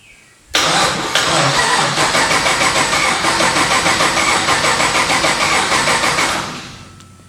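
A car engine cranks steadily and loudly for about six seconds, a continuous whirring churn with fuel plugged back in, never catching before it winds down and stops.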